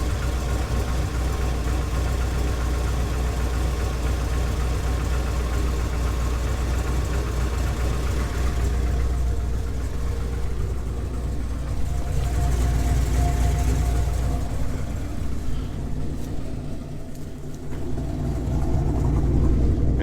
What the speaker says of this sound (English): this is a big engine, but there is a slight knock there